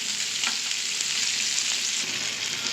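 Chopped onions fry in ghee in a pan, producing a loud, dense, continuous sizzle up close with no voices.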